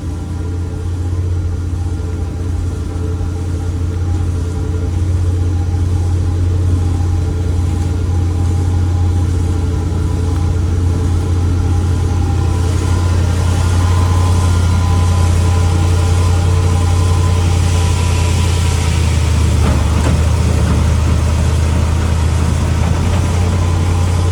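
A car engine that had sat unused for 25 years runs steadily in first gear with a low, rough rumble and idle throb, loud and continuous, with a slight swell in the last few seconds; no talk.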